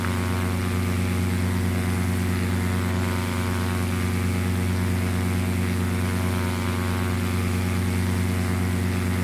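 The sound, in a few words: Cessna engine climbing, from Flight Simulator X video game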